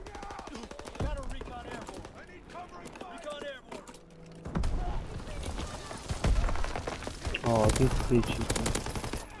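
Bursts of rapid close gunfire in Call of Duty: WWII multiplayer, loud clusters of shots in the second half, with someone talking over the action throughout.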